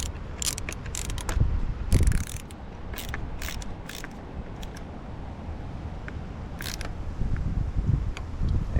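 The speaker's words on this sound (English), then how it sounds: "Let's go ahead and tighten this back up." A ratchet tightens a part on a Mustang engine with close, rapid clicking strokes in short bursts, over a steady background hum.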